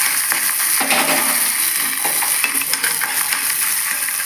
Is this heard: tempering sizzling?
yes